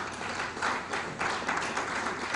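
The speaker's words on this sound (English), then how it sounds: "please join me in applauding the work of Professor Mohamed and her team" An audience at an education talk gives a short round of applause, steady, fairly distant clapping that swells slightly midway and carries on at a moderate level.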